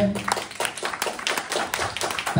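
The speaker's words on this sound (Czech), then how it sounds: "poslední takový potlesk pro naše herce" An audience at a film premiere claps for the actors, a dense burst of many hands with sharp individual slaps audible in the crowd, steady and moderately close for a couple of seconds.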